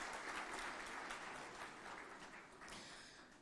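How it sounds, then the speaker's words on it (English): Audience applause fills a hall during the GNBS National Quality Awards 2025 ceremony, a dense, steady clapping from many hands that stays loud throughout and tapers only slightly near the end. "Please give yourselves a round of applause for being part of history tonight."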